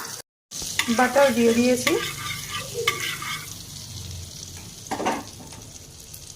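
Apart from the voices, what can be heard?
butter melting and sizzling in hot white oil in a wok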